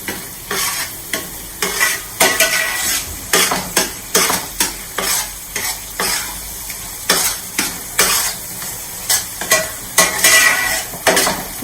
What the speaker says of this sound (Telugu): అల్లం వెల్లుల్లిపాయ అండి అంతే వేస్తే ఏమవుతుందంటే ఆ రెండు కలిపి ఏగుతూ ఉంటాయండి